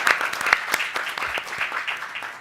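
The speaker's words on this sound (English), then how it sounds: "we'll give her a round of applause" An audience clapping in steady applause for an honoree at a scholars' panel, a dense patter of many hands at moderate volume, continuous for the whole moment with no talk over it.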